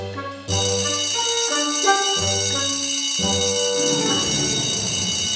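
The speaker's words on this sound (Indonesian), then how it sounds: "Belnya udah bunyi." A school bell rings loud and close as an electronic chime playing a sustained melody of shifting tones for about five seconds.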